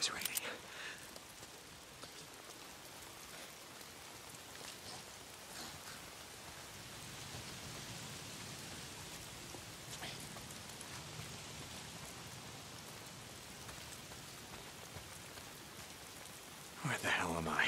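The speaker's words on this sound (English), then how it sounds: "If it's not the freaks, it's the goddamn rain." Steady rain falls continuously in the video game Days Gone as a soft, even hiss with occasional louder patters, and a brief bright burst near the end.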